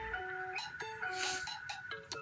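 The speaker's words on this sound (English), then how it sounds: "Hold on, I have a phone call." A phone rings with an incoming call, a repeating electronic melody of steady tones, moderately loud and alone with no talking.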